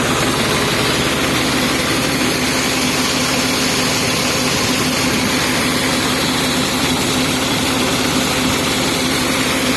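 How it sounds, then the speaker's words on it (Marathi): A tractor-driven 4x3 high-head PTO water pump from Ajit Engineers Works, Rajkot, run at low speed to feed sprinklers, drones loudly and steadily without letup. "खूप चांगल्या पद्धतीने पंप चालत आहे।"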